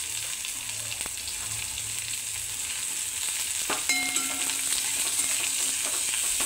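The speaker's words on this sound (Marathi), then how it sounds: "ह्याला परतून घेऊया।" Chopped onion sautéing in a pan for a bitter gourd fry, a steady soft sizzle and crackle of oil throughout, with a light clink of a utensil stirring partway through.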